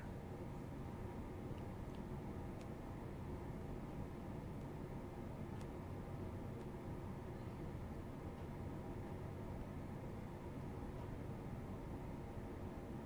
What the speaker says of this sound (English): I can hear my heater fan blowing.